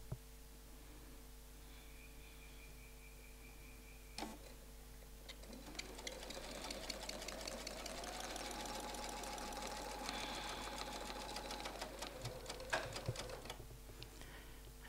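A domestic sewing machine quilts feathers with templates, stitching quietly in a continuous run of fast, even ticks that builds up after a few scattered clicks and slows near the end.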